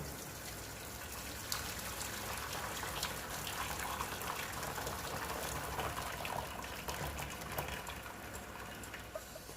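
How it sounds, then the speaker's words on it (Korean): Boiled liquid pours steadily into a sieve with a continuous splashing gush, close and fairly quiet, without any talking. "쏟아지면 안 되는데 잘 부어줄게요"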